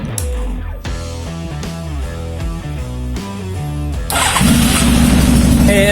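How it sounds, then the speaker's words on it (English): A 1995 Yamaha FZR 1000 motorcycle, cold and with no exhaust fitted, cranks with a rhythmic starter churn for several seconds before catching and bursting into a loud, raw running roar at close range. "let's see if it's gonna start"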